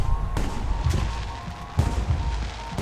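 Fireworks bursting in Alpha Protocol, set in Taipei, a few sharp booming cracks spaced across the stretch with crackling tails, mid-distance over a low ambient rumble.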